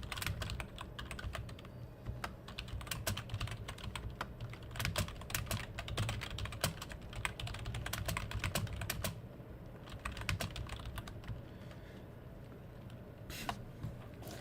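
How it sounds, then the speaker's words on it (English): Steady, rapid clatter of keys on a computer keyboard fills the whole stretch, close and fairly loud, with irregular bursts of keystrokes and brief pauses over a low background hum. "sorry about the typing"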